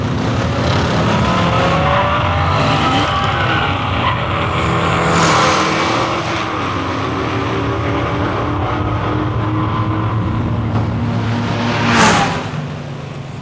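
A Camaro muscle car drag racing, its engine roaring loudly and steadily throughout with rising and falling revs, tire noise and a brief louder surge near the end.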